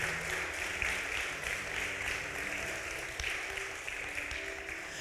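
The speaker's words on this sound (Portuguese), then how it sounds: "Pode aplaudir a Jesus." Church congregation applauding during a Portuguese-language sermon, a steady wash of many hands clapping at moderate distance, fairly even throughout with no voices on top.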